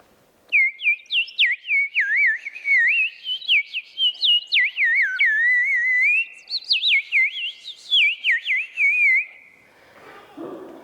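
Rapid, chirpy whistled trills imitating a bird, close and bright, running in quick repeated notes before stopping.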